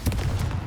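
A spell blast in Hogwarts Legacy, heard as a short burst of loud, dense crackling explosive noise that keeps up a rough rumbling roar through the whole brief moment.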